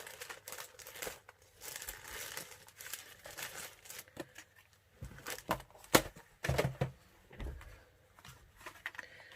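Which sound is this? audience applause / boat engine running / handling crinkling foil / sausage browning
handling crinkling foil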